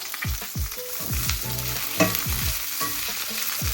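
Loud, steady sizzling of pork belly frying in a hot skillet, crackling and popping continuously throughout with no talking.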